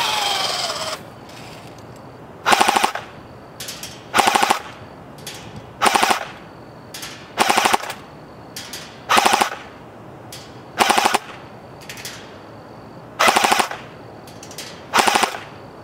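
A Cyma CM028 RPK airsoft gun fires fully automatic at a man-sized target outdoors: about ten short, sharp bursts of rapid clattering shots, evenly spaced and loud against a quiet background.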